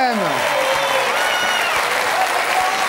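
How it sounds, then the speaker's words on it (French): A studio audience applauds a guest on a satirical television show, broad steady clapping following a fading musical jingle, with a presenter's voice briefly over it. "je vous propose déjà d'applaudir Bernard"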